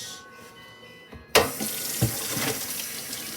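Tap water splashes steadily into a kitchen sink as salad leaves are rinsed, beginning abruptly with a strong gush and continuing as a close, broadband rush with no talk.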